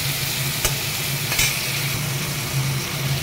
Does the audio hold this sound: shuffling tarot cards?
no